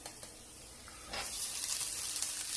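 Garlic slivers hitting hot oil in a pan for shrimp scampi, a quiet start that suddenly bursts into a bright, steady sizzle which carries on close by.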